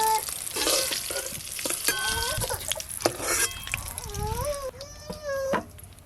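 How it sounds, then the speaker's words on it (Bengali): Eggs fry in a pan for an egg curry, browning to a reddish colour; a steady close sizzle runs throughout with occasional stirring scrapes and clinks, and no talk. "ডিমগুলো বেশ লাল লাল করে ভাজা হয়ে গেছে"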